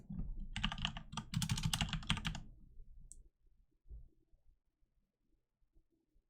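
Rapid typing on a computer keyboard, a dense run of close, crisp key clicks for about two seconds, then a few scattered taps and quiet handling sounds.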